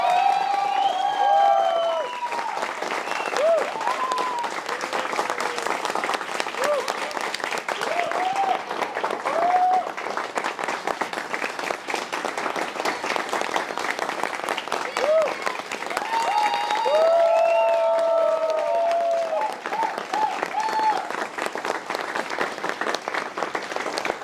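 An audience at a stage satire performance applauds steadily for over twenty seconds, dense clapping with scattered whoops and cheers mixed in, a voice speaking over it at times.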